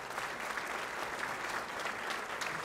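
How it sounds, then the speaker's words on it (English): A crowd at an annual awards banquet applauds steadily, a dense patter of many hands clapping at a constant level, somewhat distant, with no talking over it. "So let's give them a round of applause."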